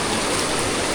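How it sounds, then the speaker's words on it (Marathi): Heavy monsoon rain during a rainy motorbike ride to a waterfall, a dense, steady broadband hiss pouring down without a break, loud and close throughout the short stretch with no talk. "पाऊस वाढा झाला."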